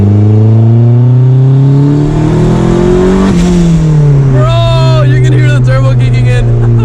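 Turbocharged Mazda Miata sleeper accelerating hard, its engine note climbing steadily in pitch for a few seconds, dropping briefly at a shift, then rising again with loud, close engine roar throughout and people talking over it.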